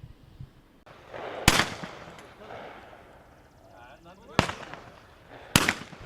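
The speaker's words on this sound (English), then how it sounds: "The annual Cops and Clays charity shoot held by the North Macomb Sportsman's Club went off with a bang." Shotgun blasts at an outdoor clay shooting charity event at a sportsman's club: three sharp, loud reports spaced a few seconds apart, with quieter outdoor background and distant activity between them.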